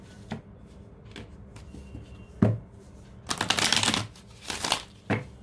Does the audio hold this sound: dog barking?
no